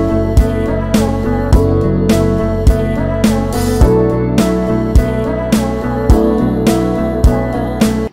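An eight-bar indie rock loop built in FL Studio plays alone, with steady drum hits marking the beat over sustained chords and a bass line that shifts partway through, dense and loud throughout.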